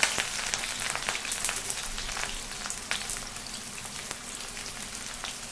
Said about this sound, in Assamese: ভালকৈ ক্ৰিস্পি হোৱালৈকে এনেকৈ ভাজিব লাগিব।